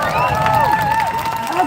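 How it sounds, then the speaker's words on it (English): Crowd at an outdoor protest rally cheering and applauding, a dense wash of clapping and shouts that holds steady and loud throughout. "So please applaud them."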